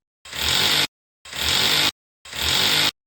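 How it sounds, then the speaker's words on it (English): Three short bursts of a loud, whining power drill, each about half a second long, separated by brief silences. "Drill holes at the marked positions."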